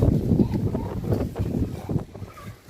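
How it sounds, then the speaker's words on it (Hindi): Strong gusting wind buffeting an outdoor microphone during dark pre-monsoon clouds, a loud low rumbling roar with uneven surges and no voices. "इतनी तेज़ हवा चल रही है ना, वो उल्टे वाली बहुत तेज़ हवा चल रही है"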